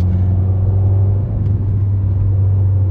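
A Peugeot 208 GTI with a stage 2 tune drones with a steady low engine rumble from inside the cabin while driving, loud and even throughout.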